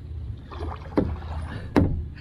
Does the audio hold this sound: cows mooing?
no